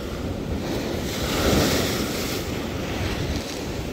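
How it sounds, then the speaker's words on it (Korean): Steady roar of ocean surf with a wave surging louder midway, mixed with wind buffeting the microphone. "파도 오는 거 보소"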